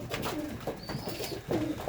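Several racing pigeons in a breeding loft coo softly and continuously at dawn, their low rolling calls overlapping close by with no voices present.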